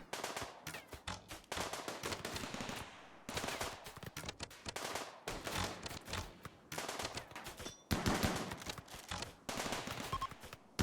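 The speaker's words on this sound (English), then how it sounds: "backed up by constant turret fire" Constant turret gunfire in the video game Rimworld, rapid machine-gun bursts rattling almost without pause over about ten seconds with only brief gaps, loud and dense, no voices.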